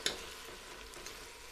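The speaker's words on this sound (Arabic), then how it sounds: "هديله تشويحة كده وتقليبة من كل جنب" Orzo and vermicelli being sautéed and stirred in a pan, a steady close sizzle with scraping stir strokes and a sharp clack at the start.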